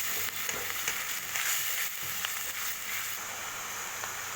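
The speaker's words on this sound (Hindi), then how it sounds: "अब प्याज और लहसुन के पेस्ट को हम थोड़ा सा भूनेंगे।" Onion and garlic paste sizzling in a pan while cooking a jackfruit curry, a steady close frying hiss with light stirring scrapes and no talking.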